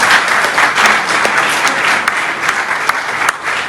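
Steady audience applause at the official launch of an agribusiness matching grants programme, dense continuous clapping from a crowd filling the whole stretch, fairly loud and even.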